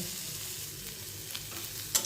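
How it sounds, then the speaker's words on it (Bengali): Spice masala for a paneer dish fries in a pan with a steady, close hiss of sizzling oil, ending in a brief clink of a utensil, and no voices. "মশলাটা আমার ভালো করে ভাজা হয়ে গেল"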